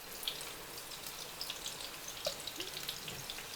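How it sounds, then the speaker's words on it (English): Meatballs fry in a pan, a soft, continuous sizzle with small scattered pops and crackles, fairly quiet and steady with no talk over it. "So the reason I'm frying them is the way I always do them, is because it keeps the flavor in."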